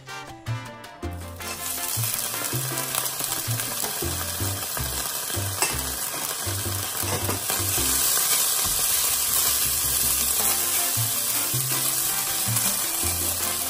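Glutinous rice stir-fried over medium heat in an unwashed wok still holding oil from earlier ingredients, giving a steady, close hiss and sizzle with stirring scrapes throughout, under continuous background music.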